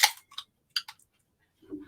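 A sharp crack and hiss from the tab of a limeade soda can being pulled open, a few quick snapping clicks, then quiet.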